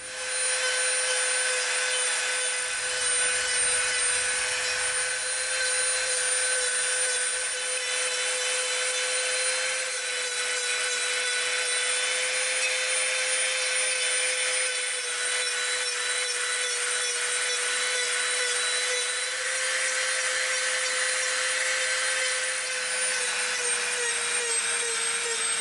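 A rotary tool fitted with a rough bit grinds and rounds the edges of EVA foam, a continuous high whining buzz with a steady pitch and fluctuating rasping texture that runs unbroken and close.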